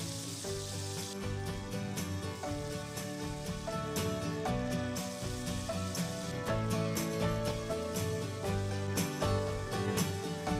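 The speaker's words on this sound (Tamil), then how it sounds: "பீஃப் நல்லா ஃப்ரை ஆகிடுச்சு." Beef pieces, cut large for an onion beef fry, frying in hot oil, giving a loud, steady, continuous sizzle throughout with no talking.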